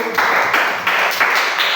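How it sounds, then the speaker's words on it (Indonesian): Students in a classroom lesson on artificial intelligence give a quick round of clapping, a short dense burst of hand claps that starts abruptly and fades within two seconds. "Tepuk tangan dulu."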